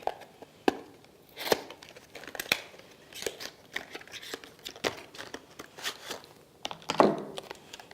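Someone handles and cuts open Reliefband packaging, making sharp snips, crinkles and scrapes that come in irregular bursts, with a louder crackling rustle near the end and no talk.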